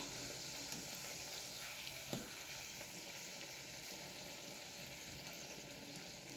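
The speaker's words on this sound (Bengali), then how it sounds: "কচুরি ভাজা পুরো কমপ্লিট।" Kachori frying in oil, a faint continuous sizzle and bubbling with a single soft clink partway through, heard alone without talk.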